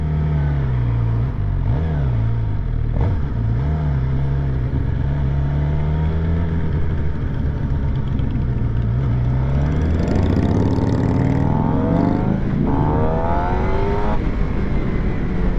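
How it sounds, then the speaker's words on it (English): A stock 2023 Suzuki GSX-R750 sport motorcycle with stock exhaust drones steadily with rising and falling revs, loud and continuous, climbing in pitch toward the end as it accelerates. "Very, very awesome sound. For a stock bike with stock exhaust, absolutely."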